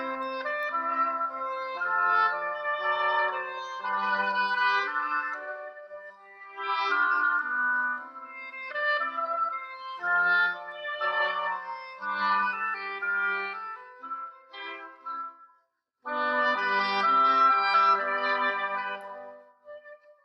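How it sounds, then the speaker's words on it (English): Three oboes play together in a reedy, nasal melodic passage of phrases separated by brief pauses, moderately loud and heard alone without talking. "This is actually 3 oboes."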